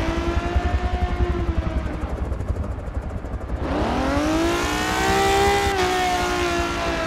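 A race car drifting around the Daytona track, its engine droning loud and near with sustained revving that dips, then surges and climbs in pitch through the slide.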